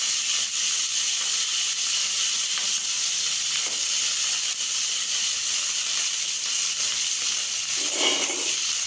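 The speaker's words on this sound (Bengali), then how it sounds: "দেখো ফ্রাই হচ্ছে এবার।" Food frying in a pan gives a steady, loud hissing sizzle that holds unbroken throughout, with a brief stirring scrape near the end.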